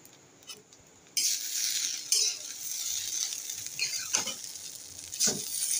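Chow mein sizzles loudly in a wok filled with twelve packets of noodles, with a spatula scraping and stirring every second or so.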